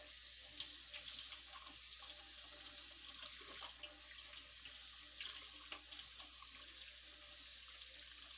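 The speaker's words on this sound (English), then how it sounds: "Make sure you rinse your hands real good. Get all the soap off." A tap runs steadily into a sink while soapy hands are rinsed, a faint, even hiss of flowing water with small splashes throughout.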